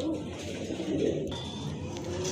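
Racing pigeons cooing close by, a soft, low, rolling coo that repeats over a faint background hum.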